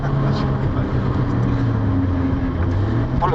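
A Fiat Panda with a 100hp engine idles with a steady, low, fairly loud hum and even, unchanging tone throughout.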